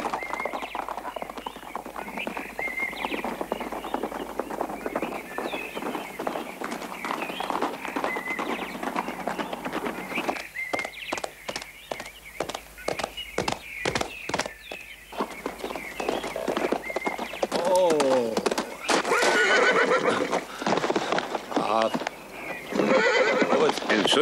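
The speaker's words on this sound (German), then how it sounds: "Lass uns einen kurzen Galopp einlegen." Horses gallop with rapid, rhythmic hoofbeats and loud whinnies, close by, while people talk over the riding.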